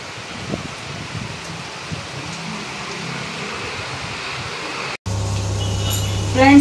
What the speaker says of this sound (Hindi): आज झमाझम बारिश हो रहा है, झमाझम।